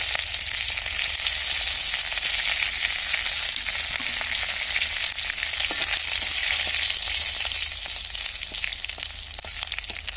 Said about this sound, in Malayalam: കടുക് ഇട്ട് കഴിഞ്ഞതിന് ശേഷം കരുവേപ്പിൻ്റെ ഇലയും മുളകും